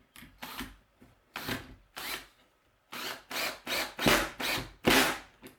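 A power drill drives 2 5/8 inch screws into a wooden wren house kit in repeated close bursts of whirring, each rising and cutting off, and the later bursts are louder and longer.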